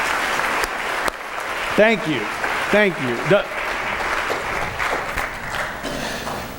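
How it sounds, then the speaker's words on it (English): A church congregation applauds steadily through a sermon service while a voice speaks briefly over the clapping. "Let's give them a round of applause."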